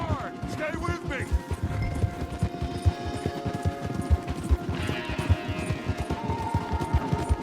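Horses gallop hard in Red Dead Redemption 2, a rapid, driving clip-clop of hooves with rattling tack under shouted voices and scattered game effects.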